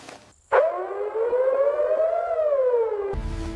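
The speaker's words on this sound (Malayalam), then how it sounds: "സൈറൺ അടിക്കുന്നുണ്ടല്ലോ, വാ വേഗം പോയി നോക്കാം നമുക്ക്." An air-raid style siren near an army camp by a border starts abruptly after a brief pause, rising and sustaining a loud wailing tone for nearly three seconds before cutting off into a low rumble.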